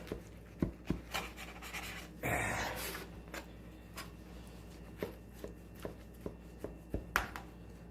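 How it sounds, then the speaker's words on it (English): A kitchen knife slices through butterburger sliders on a board in a series of sharp, close cutting taps, with a longer rustling scrape of the buns in the middle. "I'm going to cut them in half right where they belong."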